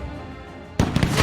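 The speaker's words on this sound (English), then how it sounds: "Fortunately, their darn cannons are gonna fire." Cannons fire in the strategy video game We. the Revolution, with a sudden loud blast that opens into a dense, rumbling barrage after a quiet lead-in.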